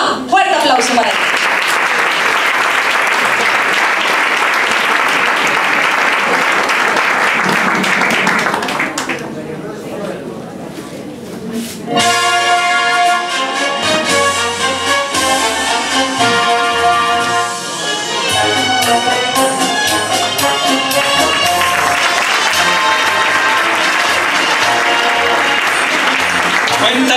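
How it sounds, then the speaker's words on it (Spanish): Applause for a singer at a Spanish song contest final in a peña, loud crowd clapping that dips briefly before music with voice takes over, then clapping swells again near the end. "Fuerte aplauso para él."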